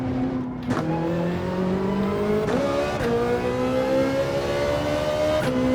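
Ferrari 458 Italia engine in a racing video game, revving continuously with rising and falling pitch and several sharp gear-shift breaks, loud and close with no voices.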